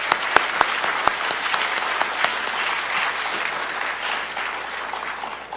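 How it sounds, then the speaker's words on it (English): Sustained audience applause at a school district community forum, a dense steady wash of clapping from a crowd with a few sharper individual claps standing out near the start, continuing evenly to the end. "Can we just give another round of applause for them?"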